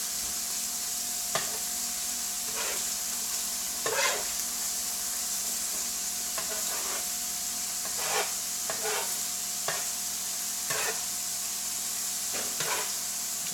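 Mushrooms and onions frying in a pan, a constant bright sizzle with a low steady hum beneath and repeated scraping stirs every second or two, no one speaking.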